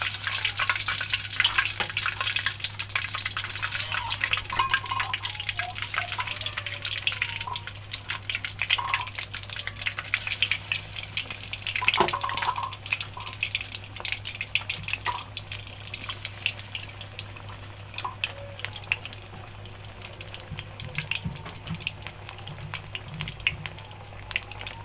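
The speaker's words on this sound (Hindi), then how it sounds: "अब हम फ्राई कर लेंगे।" Leftover roti frying in a pan gives off a continuous sizzle with scattered light clatters, over a low steady hum, with no speech.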